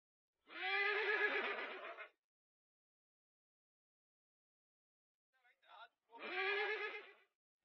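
A horse whinnies twice, loud and close, each long neigh clearly separated by a few seconds of silence.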